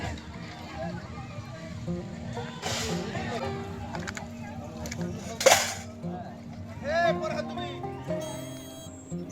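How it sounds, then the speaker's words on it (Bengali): Dishes and utensils clatter and clink while being washed after a picnic at Gangani, with a few sharper knocks among a steady background and people talking throughout. "এবার বাসন ধোয়ার পর্ব"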